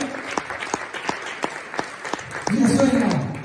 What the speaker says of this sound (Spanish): Dale palmas a la palabra